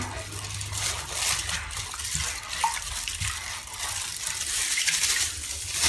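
Cold water is swished and sloshed in a basin with a little laundry detergent, the soft, close liquid churning and dripping continuing steadily at low volume with no talk.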